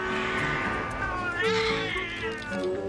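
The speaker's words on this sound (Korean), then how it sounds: "골목대장 조폭이는 온 동네 고양이에게 시비를 걸고 다니네요" A neighborhood street cat lets out drawn-out, wavering meows up close, rising and falling in pitch like a whiny caterwaul.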